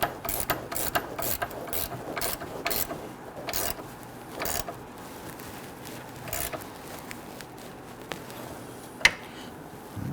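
A hand ratchet tightens the upper rear sway bar link nut on a 2011-2023 Dodge Charger 3.6L V6, giving close, crisp clicking in irregular bursts of several strokes with short pauses between them.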